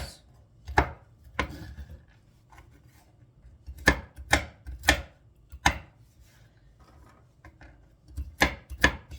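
A knife chops walnuts coarsely on a board in sharp, uneven bursts of crisp knocks separated by short pauses, close and alone with no talk.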